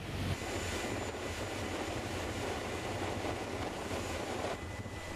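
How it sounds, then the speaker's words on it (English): Wind at 20 to 30 knots at sea off Breaksea Sound during a rough passage: a loud, steady broadband rush and roar with a low rumble underneath, constant for the whole stretch with no voices. "The wind was blowing at 20 to 30 knots, so it was a rough passage."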